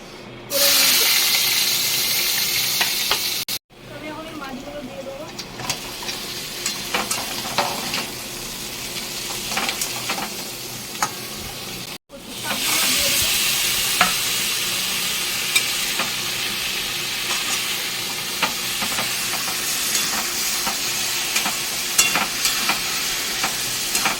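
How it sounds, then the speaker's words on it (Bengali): Onion and garlic hit hot oil in a pan and sizzle loudly, the frying hiss broken by two brief pauses and stirring scrapes, steady and close for over twenty seconds with no talk. "এখানে পেঁয়াজ আছে রসুন আছে এগুলো এখন ছেড়ে দেবো"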